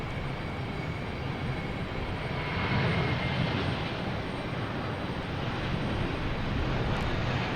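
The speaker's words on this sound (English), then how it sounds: "So JetBlue heading to San Francisco in A321." JetBlue Airbus A321 jet departing Boston Logan Airport for San Francisco, a steady broad engine roar heard from a distance, constant in level for several seconds with no talk over it.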